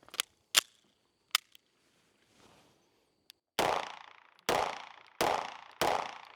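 A Beretta PX4 Storm pistol fires Fiocchi 115-grain ammunition at a range, heard first as a few light distant clicks and clacks, then four loud sharp gunshots at a steady pace, each decaying quickly.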